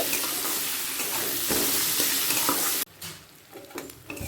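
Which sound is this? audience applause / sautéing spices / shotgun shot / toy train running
sautéing spices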